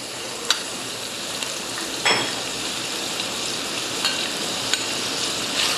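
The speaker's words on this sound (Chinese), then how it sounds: "好，先爆香洋葱丝，还有葱段" Sliced onion and scallion pieces stir-fry in hot oil in a wok for a curry mixed fried noodle dish, giving a steady loud sizzle with occasional light clinks of a utensil against the pan.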